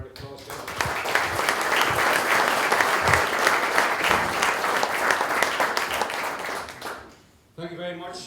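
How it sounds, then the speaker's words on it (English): Loud, full audience applause after a live performance at an evening event rolls on for several seconds, then fades away before a voice begins speaking. "I think we'll give an all round applause there."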